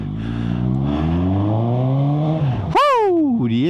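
A Suzuki GSX-S750 motorcycle engine revs up through rising gear pulls on the road, dropping and climbing again in pitch, loud and close from the rider's view.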